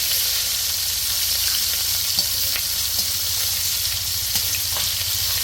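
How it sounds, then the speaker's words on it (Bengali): Hilsa fish fry in hot oil in a pan, a constant close sizzle and crackle with a few faint pops, steady and without speech. "এখানে ইলিশ মাছ ভাজতেছে"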